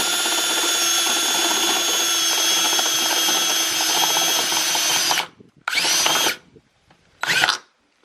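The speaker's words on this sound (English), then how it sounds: "So I'm gonna go get a drill and start drilling away." A handheld power drill enlarges a hole to fit a mirror on a Mazda Eunos, whining steadily and loudly for about five seconds, then firing in two short bursts before stopping.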